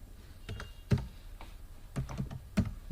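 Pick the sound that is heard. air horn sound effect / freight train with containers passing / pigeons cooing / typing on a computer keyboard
typing on a computer keyboard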